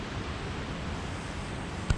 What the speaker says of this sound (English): you can hear what sounds like another waterfall just behind all this